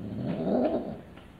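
A Persian cat gives a single close, drawn-out yowl with a growling edge just after mating. It swells and then fades within about a second.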